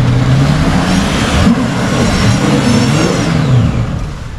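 A 4x4 vehicle's engine revs loud and steady while reversing on a bush track at Walhalla, Australia, a continuous close drone with slight rises and falls in pitch and no voices.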